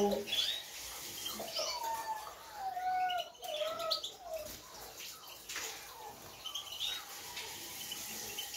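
Small birds chirp and tweet in an aviary, a steady overlapping chatter of thin, high calls at close range, with a faint hiss of running water behind.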